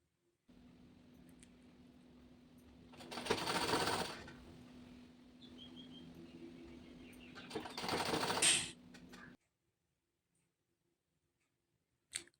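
A sewing machine stitches a blouse sleeve with a steady low motor hum. Two louder bursts of fast stitching break through the hum before it stops, followed by a brief click at the end.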